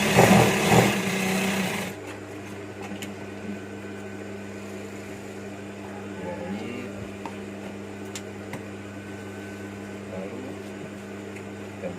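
A sewing machine stitching a wangki collar runs in a loud, dense burst for about two seconds, then falls to a low, steady motor hum.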